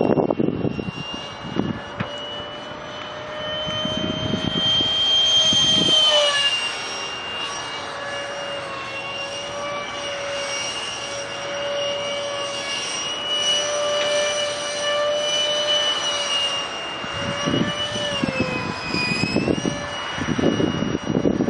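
A 70mm EDF jet drone with a prototype thrust-vectoring unit flies overhead, its steady high turbine whine rising and falling in pitch as it passes, loud and continuous, with brief rustles and thumps near the start and end.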